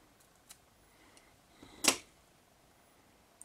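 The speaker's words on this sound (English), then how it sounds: "I cut out a section of this beautiful feather" Scissors snip through a section of feather for tying a Black and Claret Bumble fly: one short, crisp cut in a quiet room, with a few faint ticks around it.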